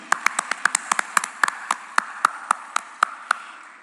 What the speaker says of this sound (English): Round of applause for her as well, ladies and gentlemen.